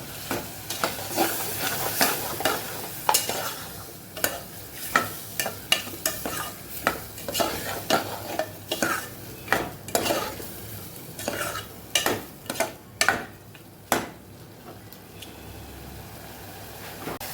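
A spoon stirs rice with half a spoonful of turmeric powder and salt in a pan, giving a run of scraping, clinking strokes with a faint sizzle underneath, close and steady, with no voices.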